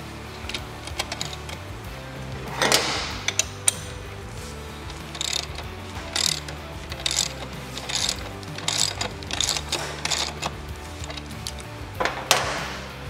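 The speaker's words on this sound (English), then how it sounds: "so now we can tighten the axle nut" A wrench ratcheting as the rear axle nut of a Yamaha RZ350 motorcycle is tightened, giving irregular bursts of metallic clicking and clunking at close range over a low background rumble, with no talking.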